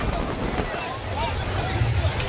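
Strong wind gusts at Mullaitivu beach on a rough-sea day with kites flying. Blustery noise buffets the microphone under someone talking.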